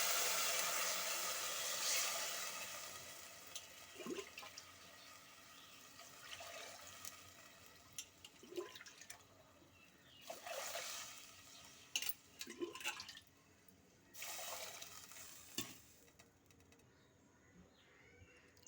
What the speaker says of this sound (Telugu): 3 డబ్బాలకి 6 గ్లాసులు నీళ్ళు పోస్తున్నాను